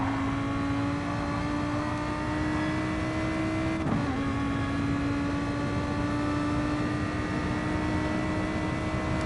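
Lamborghini GT3 race car engine heard on board at Monza in a racing video game, a loud steady high-revving drone that dips briefly on a gear change, then climbs again.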